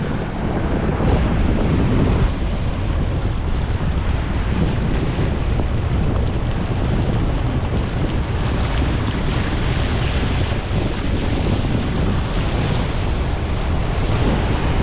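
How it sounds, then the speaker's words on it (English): The tide rushes in at a beach in strong wind, making a loud, steady roar of surf. Wind buffets the microphone throughout, and no voices are heard. "the tide's rushing in with this wind"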